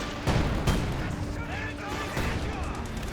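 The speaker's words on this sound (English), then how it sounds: "Yep, there was a landmine there." A landmine detonates in Company of Heroes 2, a sharp booming blast near the start followed by a second thump, amid ongoing battle rumble and scattered gunfire, with a voice talking over it.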